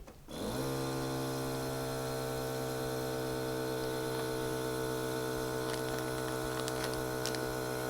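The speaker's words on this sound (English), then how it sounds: "It's going to vacuum the bag, and then it's going to seal it." A Magic Vac vacuum sealer starts up and runs a steady, loud mechanical hum with droning pump tones while vacuuming a bag, continuous for several seconds with faint ticks near the end.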